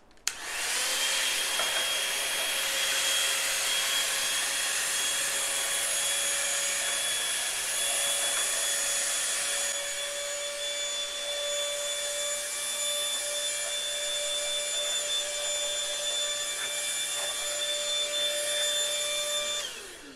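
A plugged-in broom-style vacuum cleaner runs continuously for the whole stretch, a loud close whine with a steady motor hum that shifts slightly in pitch midway, with no talking.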